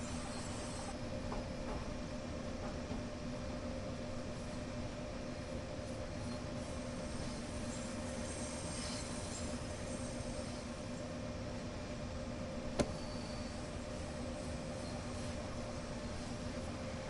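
A GP38 locomotive runs in the Train Sim World video game, giving a steady, even rumble with a constant mechanical hum and one sharp click near the end, with no talking.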